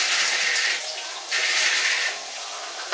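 Three cups of beans being washed under running water in a home kitchen, a loud steady gush of tap water that surges and eases in waves, alone with no voices.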